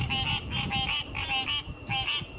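A chorus of frogs croaks in a steady, rhythmic pattern of repeated pulsing calls. The calls are fairly close and moderately loud, with no voices.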